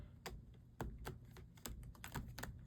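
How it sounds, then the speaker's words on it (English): Quiet, quick clicks and riffling taps of playing cards being shuffled up close, in irregular bursts. "that was quite the shuffle"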